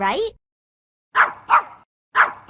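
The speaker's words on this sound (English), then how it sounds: "that puppy's barking is a low-pitched and a high-volume sound" A puppy gives three short, sharp barks in quick succession, loud and close, after a brief spoken word at the start.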